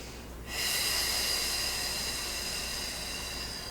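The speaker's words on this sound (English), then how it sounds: "we're just inhaling and exhaling" A long, steady breath drawn in and let out during a Pilates mat session, heard close up and alone as a sustained airy hiss that starts abruptly and holds for about three seconds.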